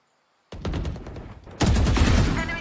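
Rapid gunfire from a Valorant-style tactical shooter video game comes close and loud in two bursts: a rattling string of shots, a brief lull, then a second, heavier volley that keeps firing to the end.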